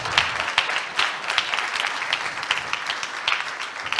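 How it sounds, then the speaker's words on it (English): Applause from a conference audience honoring women at a BIM and GIS event, a sustained patter of many hands clapping with small swells, moderately loud and continuing alone without talk. "give an applause for every woman in this room"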